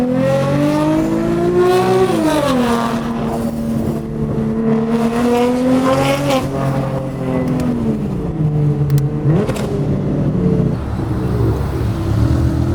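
BMW M4 engine revving hard to around 7,500 RPM as the car accelerates, its loud rising wail climbing steadily through the gears with brief dips at shifts, filling the whole stretch with no talk.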